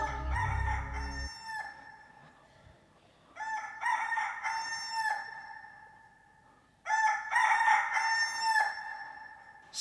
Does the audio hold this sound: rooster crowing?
yes